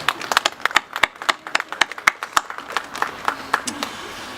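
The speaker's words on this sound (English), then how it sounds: "Please give yourselves a round of applause." Audience at an outdoor hospice tree-lighting ceremony on a cool evening claps for a few seconds, with irregular, moderately loud hand claps from a smallish crowd that do not blend into a roar.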